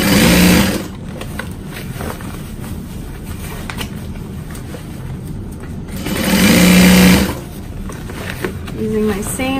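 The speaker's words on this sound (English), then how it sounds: "So I'm just gonna start on my existing line of stitching." A sewing machine runs two fast stitching bursts along a duffel bag seam, the first brief at the start and the second longer after a pause, with a person talking in between.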